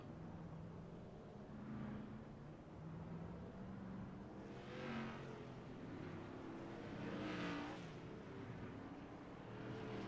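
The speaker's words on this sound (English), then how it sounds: "here comes the pace car leading this 22 car field around" At Martinsville, a pace car leads a field of 22 Whelen Modified race cars under caution: a low, steady engine drone rumbles throughout, swelling as cars pass by at a distance, with no voices.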